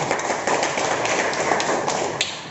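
A classroom of students applauding together in one dense, continuous burst of clapping, close and loud, with no talk over it.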